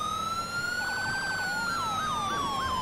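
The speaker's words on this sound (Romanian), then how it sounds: "Mamă, ce sirenă." A police siren from the video game FiveM wails loud and close, a steady high tone sliding slowly up and back down, with a second warbling siren layered beneath it partway through.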